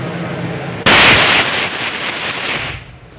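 A single loud shotgun blast at an outdoor target-shooting session, a sharp crack followed by a rolling echo that fades over a couple of seconds.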